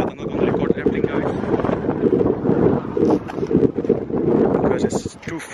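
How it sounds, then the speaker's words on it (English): Strong wind on the roof of an abandoned corn factory, rumbling and buffeting the microphone loudly and close, with someone talking over it. "a lot of wind"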